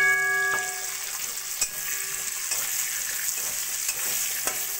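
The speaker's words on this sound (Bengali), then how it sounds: "আলুগুলোকে এবার আমি ভেজে নেব" Thin potato slices with salt and turmeric fry in hot oil, a steady crackling sizzle punctuated by occasional scraping clicks of stirring, up close with no talk.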